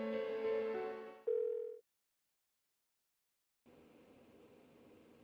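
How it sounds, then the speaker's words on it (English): Phone ringing unanswered in Persona 4 Golden: a loud electronic ring tone that cuts out, followed by silence and then a softer, noisier ring-back or line tone. "Why won't she pick up the phone?"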